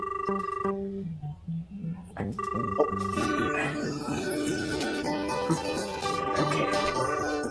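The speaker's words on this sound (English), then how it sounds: "Oh, my notebook phone rang and made me jump a little." A notebook telephone in a children's TV show rings with a repeated electronic trill in bursts, the ring returning several times over background music and some speech.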